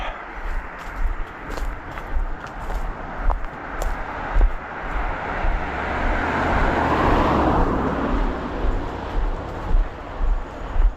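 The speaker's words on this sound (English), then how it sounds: "Scoot off to the side here for this vehicle" A vehicle passes a walker on a road in Maine, swelling from a distance to a broad close rush of tyres and engine and then fading, with footsteps and outdoor rustle around it.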